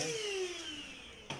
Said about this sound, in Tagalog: vacuum natin ng konti.